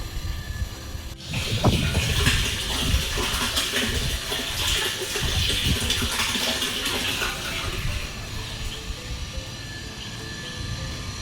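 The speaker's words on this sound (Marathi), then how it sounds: "पाणी बघते टाकी किती भरली आणि किती नाही ते" Water pours steadily into a rooftop water tank, a continuous loud splashing and rushing that runs unbroken throughout with no voices.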